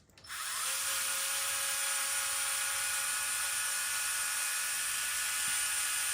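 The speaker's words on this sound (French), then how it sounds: "Je visse un petit peu, je passe à l'autre vis." Screws being driven in with a power driver while assembling parts, a steady high-pitched whine that spins up quickly and holds evenly, close and alone.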